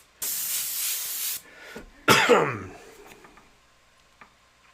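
Spray paint can hissing out the Joker color in a steady burst of a little over a second, followed by a cough-like noise and a faint tick, with quiet room sound afterward.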